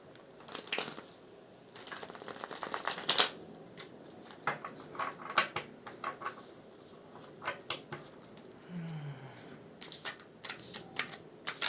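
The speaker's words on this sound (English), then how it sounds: "let me shuffle the deck" A deck of tarot cards is shuffled close by in soft, papery riffles and slaps, coming in irregular bursts with short pauses, quiet and alone.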